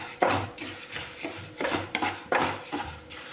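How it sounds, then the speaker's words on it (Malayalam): A spoon scrapes moong dal as it dry-roasts in a hot pan. Rhythmic metallic scrapes and clatters come in a few uneven bursts, close up, with no voices. "ഒരു പാൻ അടുപ്പിൽ വെച്ച് ചൂടായിട്ടുണ്ട്. ഇനി ഇതിലേക്ക് നമുക്ക് ചെറുപയർ പരിപ്പ് ചേർത്ത് കൊടുക്കാം"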